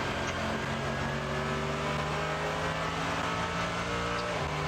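Onboard engine of a race car during the 24h Nürburgring, droning loud and steady with a gear change near the end while the car runs at speed.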